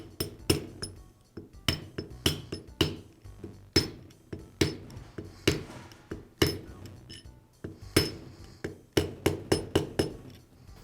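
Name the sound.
tapping a bearing into place with a socket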